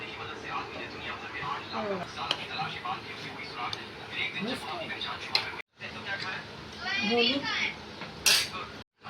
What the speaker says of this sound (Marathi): आता मी प्लेटमध्ये काढून घेते